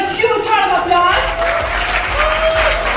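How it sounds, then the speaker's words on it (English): Applause from an audience at a Bollywood night corporate awards event, a dense, loud wash of clapping that swells and holds, with a host's voice speaking over the start. "Ladies and gentlemen, give yourselves a huge round of applause."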